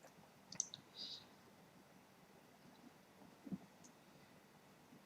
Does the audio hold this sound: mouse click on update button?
yes